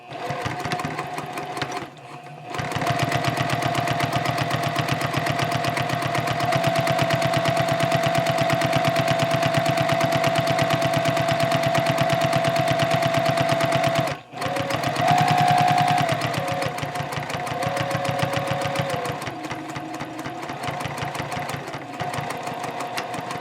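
Sewing machine top stitching along the long edge of a tote bag handle at a 3.0 stitch length, running steadily and close up for long stretches, with a brief stop and a short back-stitch burst near the end.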